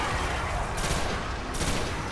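Rapid, dense gunfire from the video game Destiny, a continuous rattling fusillade of shots filling the whole moment with no pause.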